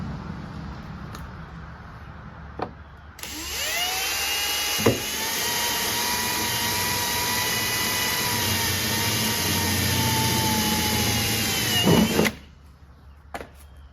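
A power drill whines at a steady high pitch for several seconds, drilling a hole in the tailgate edge of a 1997–2001 Honda CR-V, with a few clicks and knocks before and after.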